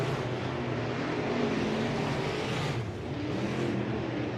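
Race cars at Southern Oregon Speedway roaring down the backstretch, a continuous loud engine drone that dips briefly then swells again as the field passes, heard from the stands.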